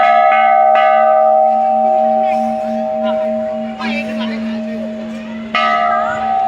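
A metal bell at a temple replica in a park is struck several times, each loud ringing strike sustaining a long humming tone that fades slowly, with soft voices murmuring beneath.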